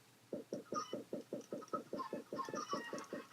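Rapid, steady video game chicken clucking, a regular run of short clucks repeating about four times a second, fairly close and without any talk.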